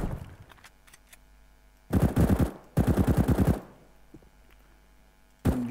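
Counter-Strike: Global Offensive weapon, the Five-SeveN pistol with its new sound, fires two rapid bursts of close, loud shots, followed by a quieter pause and another shot at the end.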